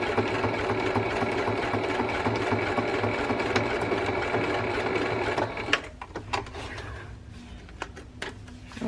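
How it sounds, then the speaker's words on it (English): A sewing machine stitches pockets in a steady, close, continuous whir for about five seconds, then stops, leaving a few faint clicks and handling noises. "I think that's all the sewing we're going to do."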